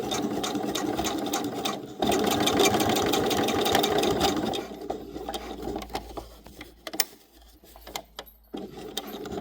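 Sewing machine stitching upcycled fabric patches, including silk, a continuous close mechanical whir that runs steadily and then turns into stop-start bursts with clicks and fabric handling.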